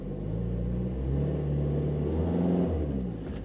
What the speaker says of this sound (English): I think the trans just died. It's making a whining noise now.